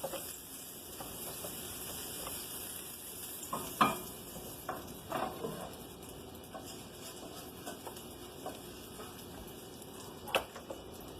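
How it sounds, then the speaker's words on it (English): Butter sizzling in a pan while French toast cooks, a steady soft hiss with scattered clinks and light scraping from stirring and utensils against the pan. "look at that sizzling butter"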